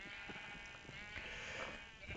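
Sheep bleat in a Minecraft game: a wavering, nasal in-game bleat sounds clearly and continuously for a couple of seconds, with no talking.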